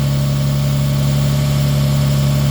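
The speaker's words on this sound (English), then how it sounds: "Alright, so I got the engine running" Mitsubishi Eclipse engine idling at a steady, even hum with a constant low drone, close and continuous with no talking.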